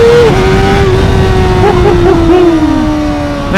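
A Honda CBR600RR sport bike accelerates hard on a ride, its engine roaring loud and close as the pitch steps through quick gear changes.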